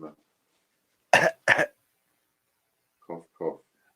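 Two sharp coughs in quick succession, with faint short vocal sounds before and after in an otherwise quiet room.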